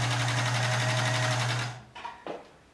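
A Union Special 39200 AE industrial sewing machine stitches fabric with a fast, steady mechanical hum and whir, then stops, followed by a couple of brief handling clunks.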